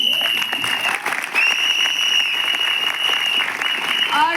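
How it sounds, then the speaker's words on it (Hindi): Audience clapping at a mega seminar in Ayodhya, dense steady applause from a crowd sustained throughout with a few whistles on top. "और सबसे बड़ी ताली समीर मोदी सर के लिए"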